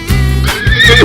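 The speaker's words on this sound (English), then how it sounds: "Zebra." Zebra sound effect in an animal cartoon, a loud single braying whinny lasting about a second, close and clear with no talk.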